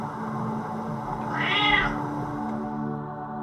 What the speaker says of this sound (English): The cat lets out a roar to coerce this human into giving him